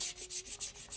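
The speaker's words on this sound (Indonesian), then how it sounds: "kalau kita menggunakan amplas 240 langsung menggunakan air" Wet sanding a badik knife blade with 240-grit sandpaper, quiet rhythmic back-and-forth rubbing strokes, about five or six close scrapes in a second.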